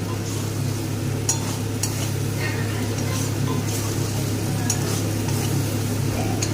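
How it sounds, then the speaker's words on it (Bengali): Spice paste for a Bihari-style chicken kasha frying in oil until the oil separates, a constant loud sizzle and hum with occasional faint utensil scrapes and clinks, no talk. "মশলাকে ভালো করে কষিয়ে নেব তেল ছাড়া পর্যন্ত।"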